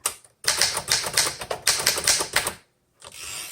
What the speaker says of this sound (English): Okay, let's keep typing.